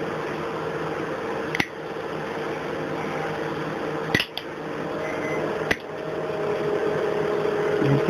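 A pick chips glass from a light bulb being turned into a homemade LED lamp from recycled materials: three sharp, isolated clicks over a steady background hum, with no speech.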